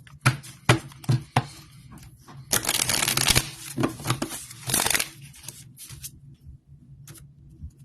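Playing cards shuffled close by: a few sharp taps and riffles, then a long crisp riffling burst, more flicks, and a quiet finish.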